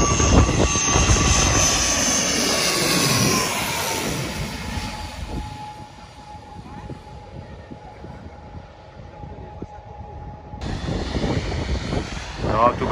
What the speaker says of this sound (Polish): tu będzie duża moc odrzutowa